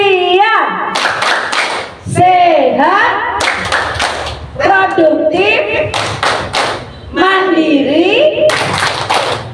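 A group of elderly people does a rhythmic clapping chant (tepuk lansia) at a family gathering in Yogyakarta. Loud, patterned hand claps punctuate voices chanting and singing together in bursts throughout.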